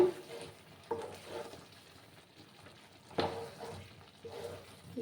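A spoon stirs a potato and pumpkin curry in a pan in sweeping strokes, each one a scrape and soft sizzle, with quieter simmering and frying in the gaps between strokes.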